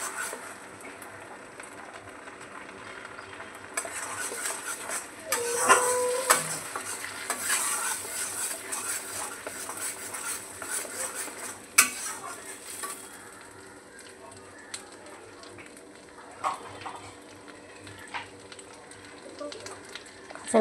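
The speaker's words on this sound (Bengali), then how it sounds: "মশলাটা দিয়ে একটু নাড়াচাড়া করে নিই" A spatula scrapes and stirs spices sizzling in a hot frying pan for a no-onion, no-garlic veg paneer, with a low steady fry under intermittent metallic scrapes and clinks, close by and moderately quiet.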